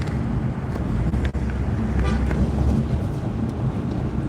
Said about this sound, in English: It's a person honking at me.